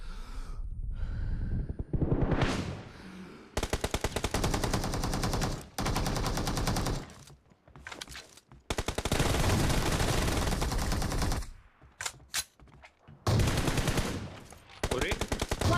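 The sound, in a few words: shotgun fire in the video game BGMI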